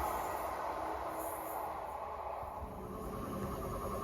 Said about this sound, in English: here comes the Transport for Wales service from Holyhead to Birmingham International